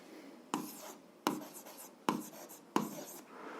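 Pen or pencil strokes on paper during a 7th-grade algebra exercise, four distinct bursts of handwriting each starting with a sharp scratch and trailing off, close and quiet with no talk.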